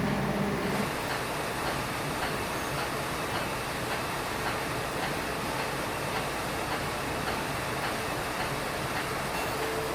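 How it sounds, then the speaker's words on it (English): A South Shore Line train rolling down the middle of a city street in Michigan City, heard from on board as a steady, even rumble with a faint, regular clicking of wheels throughout. "the South Shore Line is most famous for, when it rolls down the middle of Michigan City's 10th and 11th Streets"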